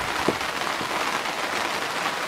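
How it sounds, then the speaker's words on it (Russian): Steady rain patters on a greenhouse roof, heard from inside as a continuous, even hiss, with a couple of heavier drops standing out near the start. "Дождь идет."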